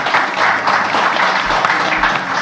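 An audience at a webinar workshop applauds, with dense continuous clapping close up that holds steady for a couple of seconds.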